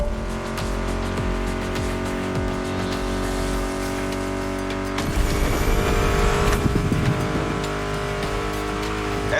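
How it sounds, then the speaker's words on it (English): American muscle car engines, Ford Mustang, in The Crew Motorfest, with a steady throaty engine drone under music and a surge of revving louder midway. "Meshes well with the sound of the engines, you feel me?"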